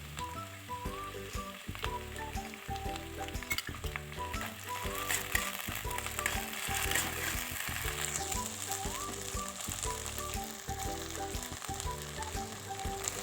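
Capsicum and onion sizzling as they fry in a pan for a Bengali chilli chicken dish, a steady crackling hiss with scraping and stirring clatter layered over it, close and continuous.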